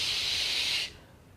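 A steady fizzing hiss of effervescence from a chemical reaction, loud and bright, holding for under a second before cutting off abruptly into quiet.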